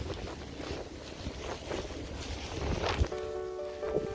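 Wind roars and gusts through a heavy snowstorm, a rough, buffeting rush that swells and fades with a sharp thump near the end and no speech.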